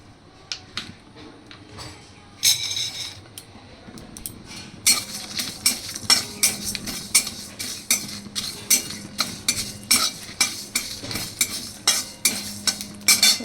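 Dried chili, bay leaf, cardamom and panch phoron frying in a hot wok, a soft crackling sizzle under a long run of sharp, regular metal scraping and clinking stirs, close and clear.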